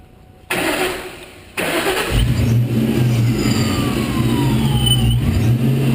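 A 2001 Ford Mustang Bullitt engine is cranked over briefly and stops, then cranks again, catches and settles into a steady, close idle with a faint high whine above it.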